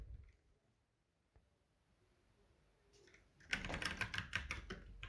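Someone types on a computer keyboard in quick, close clicks that begin softly and then become a dense, steady burst of keystrokes with no talking.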